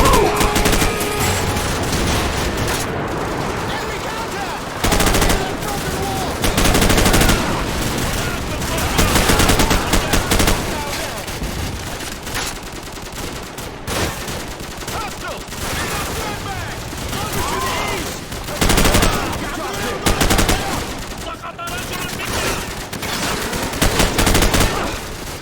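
Rapid automatic gunfire fills a Call of Duty 4: Modern Warfare battle, loud bursts and sustained volleys running almost without pause, with shouted voices faintly under the shooting.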